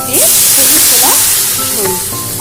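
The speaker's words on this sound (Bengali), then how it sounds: "এবার আমি জল দিয়ে দেবো। চিংড়ি মাছ দিয়ে" Prawns sizzle loudly in a hot pan as water is poured in, a steady close hiss with stirring scrapes and bubbling under no speech.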